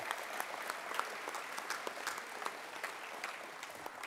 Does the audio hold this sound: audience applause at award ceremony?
yes